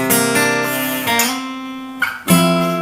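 Guitar chords strummed, then a pitch glide as the hand slides up the neck into a new chord, ringing clearly and close.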